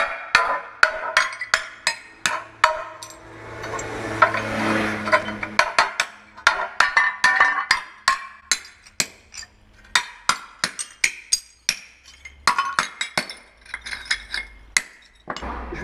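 Hammer blows break ceramic shower tiles in a walk-in shower being demolished: a long run of sharp, loud, irregular strikes with cracking and clinking shards, close up, alone with no talk.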